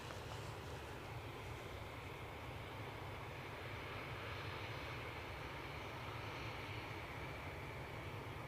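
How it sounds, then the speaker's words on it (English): Air France Airbus A318 airliner engines during pushback at Edinburgh Airport, a steady, faint, broadband whine and rumble heard from a distance with no change in level. "It is pushing back. Air France A318, a scarce sight,"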